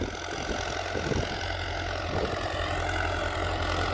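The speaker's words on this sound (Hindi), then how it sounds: "ये वाले सलेंसर मोटी आवाज़ निकाल रहा है ट्रैक्टर का" A Sonalika 750 tractor engine fitted with a modified silencer idles with a deep, steady, low throb that stays constant and close for several seconds, with no voices.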